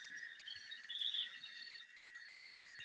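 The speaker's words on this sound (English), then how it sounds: "So this is my concluding video clip on Oaklandra bush frog." An Oaklandra bush frog in the Western Ghats calls faintly with a steady, high, insect-like chirping trill that runs without a break over a soft night-time chorus.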